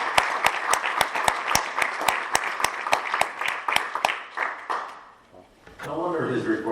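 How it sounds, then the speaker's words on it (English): A meeting group claps for a colleague retiring on his last day. Sparse, evenly spaced sharp claps come close up for about five seconds, stop, and then talk resumes. "I'd like to give him a big round of applause for all of his service."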